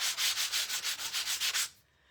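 A sanding sponge rubbed back and forth across a painted wooden church decor piece, about a dozen quick, evenly spaced scratchy strokes in steady rhythm, close and fairly quiet, then stopping.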